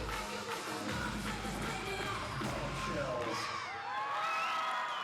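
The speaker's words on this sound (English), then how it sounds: "You can hear the crowd singing their dance music." At the Cheerleading Worlds 2025, a crowd sings and whoops along to the dance music of a team's cheer routine, a dense roar of voices and cheering that stays loud and unbroken throughout.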